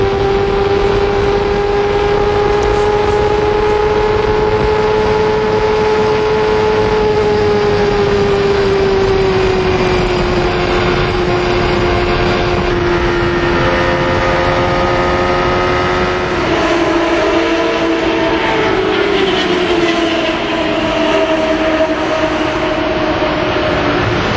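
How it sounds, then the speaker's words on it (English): IndyCar race cars at speed at the 1993 CART Michigan 500 produce a loud, sustained high-pitched engine whine that shifts in pitch as the cars pass, with no talking. "let's watch and listen as Raul Boisel tries to chase down Mario Andretti"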